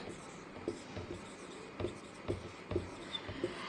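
Pen or pencil writing a word by hand on paper, soft scratchy strokes with a few light taps, close and quiet, no talking.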